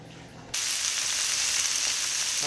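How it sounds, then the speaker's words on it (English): Meat and vegetables hit a hot pan on the stove and burst into a loud, steady sizzle that starts abruptly and holds evenly to the end, with no talking. "now I got my veggies in the pan and also my meat"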